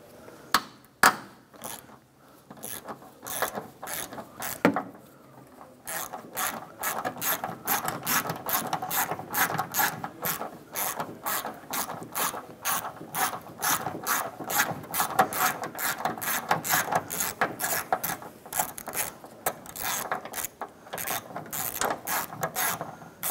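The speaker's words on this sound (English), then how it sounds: "Using a 13mm socket, swivel, and extension, we're going to go ahead and get to the upper forward bolt right here." A ratchet turning a 13mm socket on a swivel and extension loosens an upper forward door hinge bolt on a 1993-1997 Ford Ranger, a few clicks and then a long, steady run of rapid close clicking.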